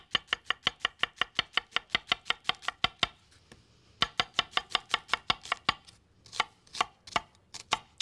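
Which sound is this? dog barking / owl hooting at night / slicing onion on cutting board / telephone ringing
slicing onion on cutting board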